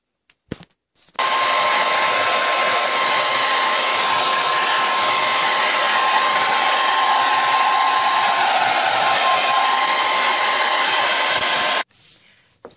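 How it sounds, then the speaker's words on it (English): A hair dryer blows hair dry indoors, a loud, steady whoosh running close up for about eleven seconds after a brief click-on and then cutting off abruptly. "I'm about to blow dry my hair and start getting ready for church."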